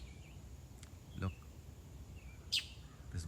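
A single bird gives a few faint, scattered chirps and calls, one brief and sharper than the rest, over a low background rumble.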